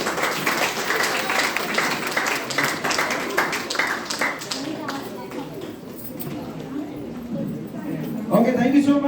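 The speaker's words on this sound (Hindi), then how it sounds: "अशोक सर के लिए जोरदार ताली।" An audience claps in a hall for a speaker named Ashok sir, a dense burst of applause that thins out over several seconds while someone talks over it.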